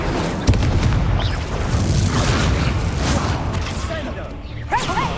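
A Confringo blasting spell goes off in the video game Hogwarts Legacy, with a sharp crack followed by a sustained, rushing boom under other game effects, and a voice is partly heard.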